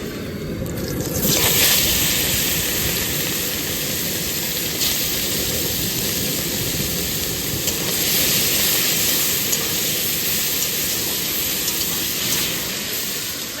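Shrimp hit hot oil in a kadai with cumin and dried chilli, raising a loud, broad, steady sizzle that surges in the first seconds and then holds a constant hissing roar throughout.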